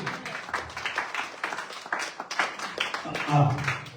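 Church congregation clapping and applauding in praise of Jesus Christ during a French-language prayer service, a scattered burst of hand claps mixed with a voice speaking over them at moderate distance.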